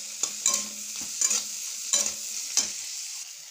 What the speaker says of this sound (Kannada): ಟೊಮೆಟೊ, ಈರುಳ್ಳಿ ಮತ್ತು ಮೆಣಸಿನ್ಕಾಯಿ ಎಲ್ಲ ಸ್ವಲ್ಪ ಎಣ್ಣೆ ಒಳಗೆ ಚಂದ ತೆಗಿ ಫ್ರೈ ಮಾಡ್ಕೋಬೇಕು ರೀ